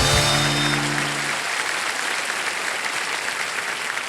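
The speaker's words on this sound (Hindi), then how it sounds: "एक बार ताली हो जाएगी" A studio audience on the Kaun Banega Crorepati TV quiz show breaks into loud, sustained applause. A short musical tone rings over the opening moment before the even roar of clapping carries on alone.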